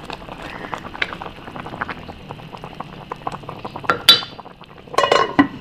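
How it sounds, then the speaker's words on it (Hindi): Mutton simmers in a pot as its liquid cooks down, giving soft, irregular bubbling pops and crackles, with a few metallic clinks of utensils against the pot toward the end. "ये देखें एक तरफ गोश्त पक रहा है"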